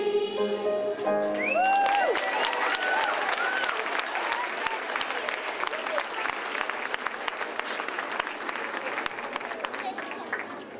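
Warm applause from a school audience for an elementary school choir at an anniversary celebration. Many hands clap steadily, with a few cheers and voices mixed in near the start before it slowly thins out.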